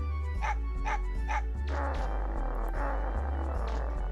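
A dog in the video game Mega Man Legends gives three quick, evenly spaced barks over a low, droning in-game music bed, followed by more muffled game sounds.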